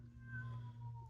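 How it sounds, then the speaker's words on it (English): Stray neighborhood cat giving a single short, faint meow over a low steady hum. "if you hear a cat meowing"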